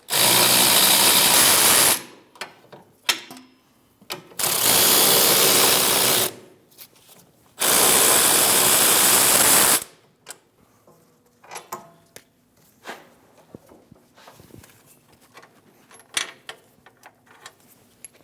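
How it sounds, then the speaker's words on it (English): Power tool removing the rear brake caliper bolts on a Chevrolet Malibu, in three loud two-second whirring bursts close by, followed by scattered clicks and clanks of parts being handled. "We're going to get them both loose to start. Remove the bolts."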